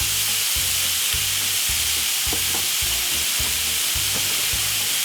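Vegetables stir-fried for couscous hiss and sizzle loudly and steadily in a hot pan, with a repeating low scraping rhythm from stirring about twice a second and no talking.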